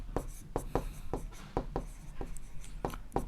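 Pen scratching on paper during a Class 7 maths lesson, a steady series of short strokes in quick irregular rhythm, close and clear under a quiet room.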